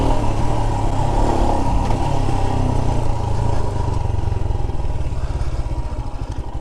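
Royal Enfield Himalayan motorcycle engine droning loud and steady while riding at speed on a proving ground, with rough low rumble and wind noise throughout, no voices.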